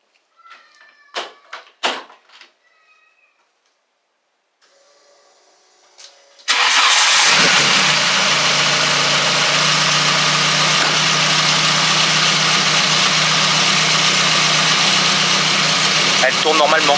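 A VW Golf 2 GTI with Digifant injection cranks briefly and fires up, then settles into a loud, steady idle; people speak faintly beforehand with some clicking, and the engine runs close by.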